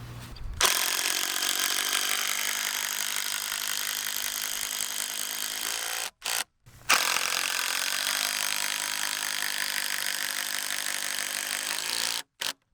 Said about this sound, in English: So we're going to do 2 of these 6-inch long construction grade screws, go all the way through both of these into the 6x6